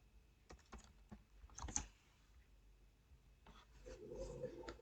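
Clicks and taps of a computer keyboard while writing notes in the Notion app, close and fairly quiet, coming in short irregular bursts with a few sharper key hits and pauses between runs.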